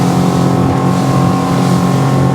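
A Highfield Patrol 860 RIB motorboat running at speed, around 20 to 30 knots, off the Hamble: a steady, loud outboard engine drone with constant hull and water rush, no pauses.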